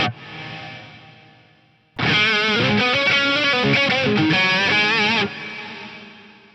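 An electric guitar plays a quick phrase through a Lexicon MPX-1 delay set in parallel, the echoing notes ringing out and then cutting off, after a fading earlier tail.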